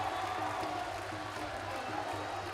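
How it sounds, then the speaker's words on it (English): A basketball crowd at a youth championship final between Sri Lanka and India gives a steady, loud roar of cheering from the stands that never lets up and holds at one level throughout. "Crowd getting in on the act. They've been ferocious."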